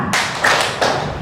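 Hand claps in a classroom clapping game, a few loud, close, dull claps in quick succession with no talk over them.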